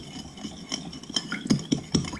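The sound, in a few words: stirring sugar into soy sauce mixture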